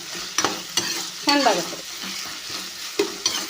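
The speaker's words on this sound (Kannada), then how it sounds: "ಮೆಣಸಿನ್ಕಾಯಿ 2 ಫ್ರೈ ಆಗಲಿ" Onion and green chillies fry in a pan for a rotti upittu, with a steady sizzle under sharp clanks and scrapes of a spoon stirring against the metal.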